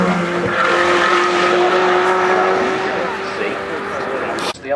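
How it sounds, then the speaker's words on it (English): Ferrari F12 Berlinetta climbing the hill course at the Goodwood Festival of Speed, a loud, sustained high-revving engine roar with tyre squeal, heard under a talking commentator. "We just saw the F12 Berlinetta, didn't we, go up?"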